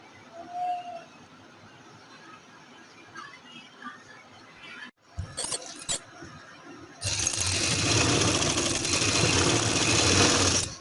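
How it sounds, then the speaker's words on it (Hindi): Sewing machine stitching the side seam of a baby girl's frock, quiet handling and a short burst first, then a loud continuous whirring run of stitching close by for the last few seconds. "इसके बाद हम इसकी साइड की सिलाई लगाएंगे।"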